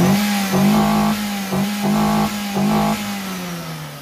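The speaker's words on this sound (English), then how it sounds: "Okay, we do quick sound test, just rev it." Car engine fitted with its standard stock air intake, revved up three times in quick succession, each rise clear and loud, then settling back to idle.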